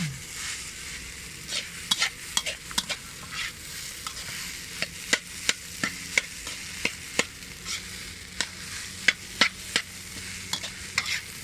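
Egg fried rice stir-fried in a pan, a continuous soft sizzle punctuated by frequent crisp scrapes and clinks of a spatula, with no talking.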